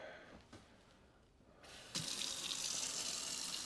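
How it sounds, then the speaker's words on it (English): Hot water gushes from a kitchen faucet into a large pot, starting abruptly after a quiet stretch of faint handling and then running as a steady, loud, close splash. "get some hot water coming out of here."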